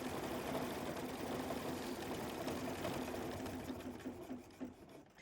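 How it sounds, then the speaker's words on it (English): A sewing machine hums steadily at close range, running a decorative edge stitch on a quilted hedgehog appliqué, a continuous buzzing drone that eases off and thins out near the end. "this is going to do a decorative edge stitch to hold down the hedgehog's coat"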